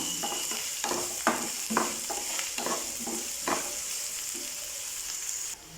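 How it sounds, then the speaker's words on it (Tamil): Chopped onions sizzling and sautéing in a pan for a plantain fry, with a spatula scraping and stirring in irregular strokes close by, then the sizzle continuing alone. "இப்போ வெங்காயம் நல்லா வதங்கி வரட்டும்"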